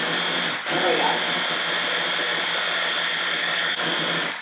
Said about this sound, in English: go ahead and blend until it's basically all evenly blended